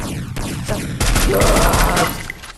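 Loud automatic gunfire from the video game Free Fire fills the whole stretch as rapid, dense volleys that grow heavier midway, along with game sound effects.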